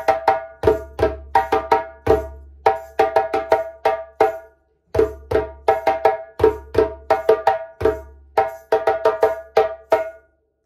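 A djembe plays the break of the Dansa rhythm: crisp, close hand strikes mixing deep bass thumps with sharp tones and slaps in quick repeating phrases, the pattern played twice with a brief pause between.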